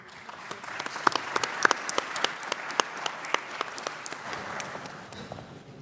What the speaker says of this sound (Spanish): Recibimos con un fuerte aplauso a Luz Chang